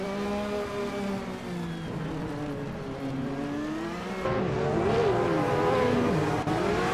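Race car engines whine and rev in a video game race, a 1983 MK83 among the field, with a steady droning tone that climbs and wavers as cars accelerate, moderately loud with no talking.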